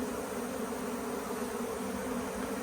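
Dense, steady buzzing from a honeybee swarm around a hive, a continuous close drone holding level throughout with no voices.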